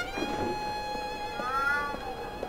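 A cat meows in the video game Alice: Madness Returns, with drawn-out, tonal mewing calls rising and falling over a quiet background, one early and a longer one midway.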